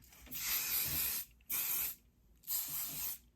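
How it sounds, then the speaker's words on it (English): Three sharp hissing bursts of hairspray from an aerosol can, each about a second long with short pauses between, close to the microphone. "I am gonna spray some hairspray"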